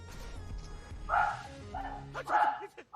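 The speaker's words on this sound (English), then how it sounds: "Sorry for the dog again." A dog barks indoors during a Bugsnax gaming session, a few loud yapping bursts spaced across the stretch over faint background noise.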